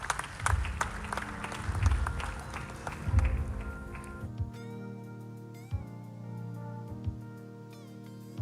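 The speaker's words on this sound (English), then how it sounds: "Please welcome him with applause." Applause from an awards ceremony audience at a media awards event, dense clapping for about four seconds that then gives way to sustained music tones with a few soft thumps.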